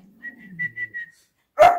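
A dog, agitated at another dog, gives one loud, sharp bark near the end, after a short run of soft, whistle-like tones over quiet rumble.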